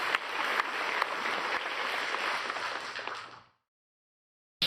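Church congregation applauding together, a dense, even wash of clapping that holds steady for about three seconds, then fades out into silence.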